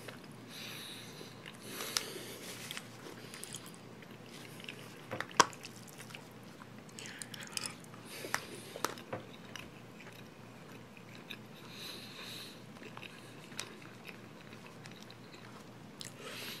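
Close-up chewing of bacon, with soft wet mastication and small crunchy bites repeating irregularly and fairly quietly throughout, with no talking.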